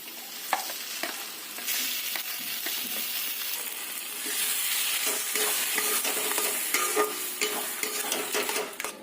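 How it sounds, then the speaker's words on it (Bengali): Boiled, blended pointed gourd paste fries with turmeric and Kashmiri chilli powder while being stirred constantly, giving a close, continuous sizzle broken by frequent scraping and clicking strokes of the spoon. "পটলটাকে এইভাবে খুব ভালো করে কষিয়ে নিতে হবে বারে বারে হাতটা নেড়ে যেতে হবে যাতে তলায় লেগে না যায়"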